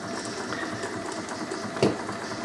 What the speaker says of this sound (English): The gas actually makes more noise than what the engine does.